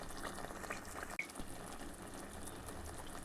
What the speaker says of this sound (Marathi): आपल्याला मसाला तळून घ्यायचा आहे